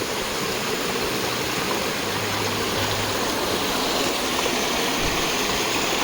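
A forest stream that flows all year keeps up a continuous, even rush and babble of water, close and alone with no voices.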